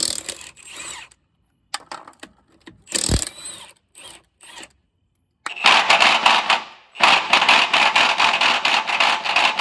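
A Milwaukee power tool works on heavy-duty truck hardware at a truck bed tool rig: scattered clunks and clicks at first, then loud, sustained mechanical bursts whirring close by for the last few seconds.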